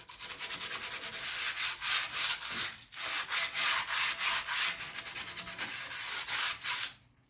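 Sandpaper scrubbing rear brake parts on a BMW F30, a close, loud run of rhythmic back-and-forth rasping strokes with a brief pause near the middle, then stopping near the end.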